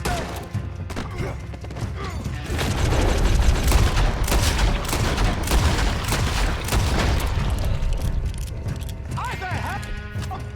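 A chaotic shootout in Red Dead Redemption 2, with dense overlapping gunshots and booms forming a loud, continuous barrage, while voices shout throughout.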